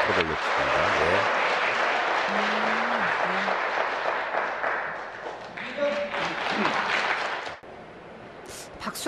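Crowd applause at a world championship three-cushion billiards quarterfinal, a dense sustained wash of clapping under a commentator's voice, fading briefly near the end.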